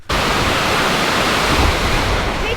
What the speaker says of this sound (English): That is one cool waterfall.